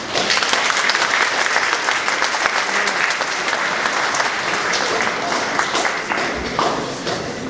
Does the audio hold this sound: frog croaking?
no